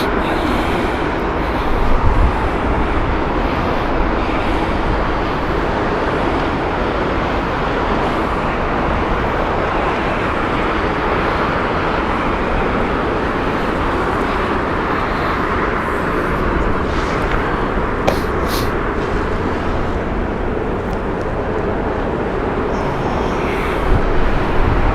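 A Delta airliner taking off at Heathrow Airport, holding its nose up, gives a steady, broad jet roar that stays loud and continuous throughout, with no talking.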